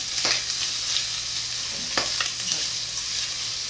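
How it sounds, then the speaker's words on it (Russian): Food sizzling and frying in a pan, with a steady hiss and a few louder stirring or spatter bursts, close and unaccompanied by voices. "Жарится, жарится."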